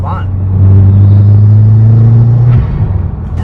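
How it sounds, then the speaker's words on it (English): A 2018 Subaru WRX with a COBB intake, the engine droning loudly and steadily before cutting off sharply with a short release as the blow-off valve vents, then a lower idle rumble. "And the blow-off now noise is so much louder"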